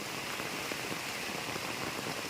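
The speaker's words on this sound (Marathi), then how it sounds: "पाऊस एवढा आहे की माझा आवाज तुमच्यापर्यंत पोहोचतोय की नाही ते पण समजत नाही" Heavy rain pouring down steadily during flooding in a village, a dense, even hiss of drops hitting surfaces with no pauses.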